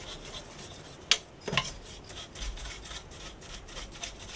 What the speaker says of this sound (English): I can get to the PCB in here and give it a little bit of a clean as well with a brush.